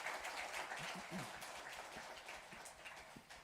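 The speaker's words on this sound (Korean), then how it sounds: "우리 박수로 한번 뜨겁게 감사합니다" Applause from a church congregation during a Sunday service, a steady dense patter of clapping that fills the whole stretch, fairly loud and continuous with no voices on top.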